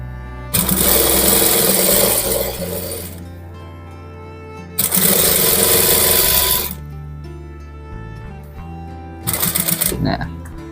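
A sewing machine stitches a shirt collar in three loud, close bursts of rapid mechanical whirring, each lasting a few seconds, separated by quiet pauses.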